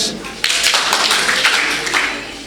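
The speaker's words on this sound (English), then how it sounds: "if you can hear me, clap once" Audience at an event responds to a call to clap once, producing a sharp burst of many hands together followed by lingering scattered claps as a voice speaks.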